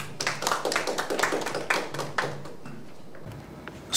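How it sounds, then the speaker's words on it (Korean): Audience clapping at a Korean human rights and peace writing contest awards ceremony, a close, lively burst of hand claps that fades out after about two and a half seconds, leaving quiet room tone. "박수로 맞아주시기 바랍니다"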